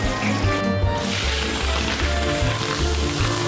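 Salted fish coated in potato starch deep-fries in hot oil, a dense, continuous crackling sizzle filling the whole moment, close and steady without any voices.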